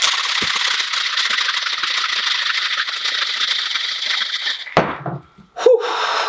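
Ice rattles hard inside a lidded cocktail shaker for a Blood and Sand cocktail, a rapid continuous clatter for several seconds that stops abruptly, followed by a couple of brief knocks and handling sounds.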